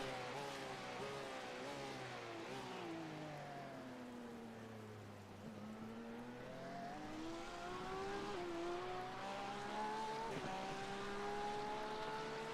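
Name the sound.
race car engine noise in video game iRacing at Sebring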